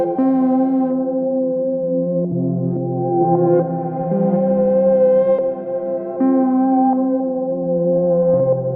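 A sustained synthesizer chord from an Empress ZOIA modular synth pedal, its filter cutoff sweeping open and closed, shifting brightness as notes change every couple of seconds, loud and continuous with no talk.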